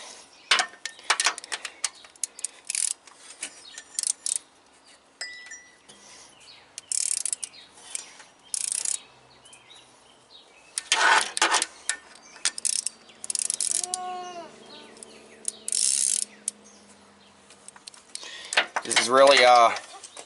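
A socket ratchet works the head bolts on a Subaru 2.5 engine during a head gasket job, giving close, clicking ratchet bursts with pauses between them and a few squeaky turns near the end.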